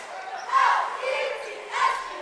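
Crowd noise at a high school boys basketball game in a gym, a brief swell of cheering rising twice over a couple of seconds, fairly close and loud.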